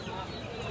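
Hens cluck softly at a busy poultry market selling desi chickens and roosters, a short low murmur of fowl sounds amid the crowd's background din.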